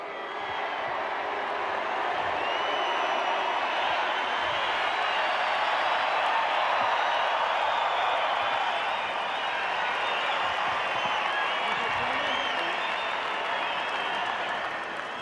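A large stadium crowd applauds and cheers steadily after the All Blacks beat Australia in a 2019 rugby match, a broad sustained roar of clapping.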